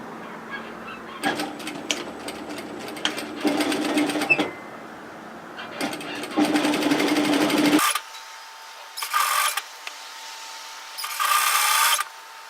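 A sewing machine stitches the hem of an asymmetric spliced cowl neck top along the overlocked edge, running in several short loud bursts separated by pauses, with no talking.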